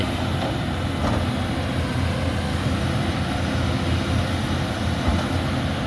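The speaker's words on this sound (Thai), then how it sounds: "เครื่องยนต์ไดเรกนะครับสำหรับรุ่น 320D2" A Caterpillar 320D2 excavator's direct-injection diesel engine runs steadily, a loud continuous rumble with a broad roar that stays even throughout, with no voices.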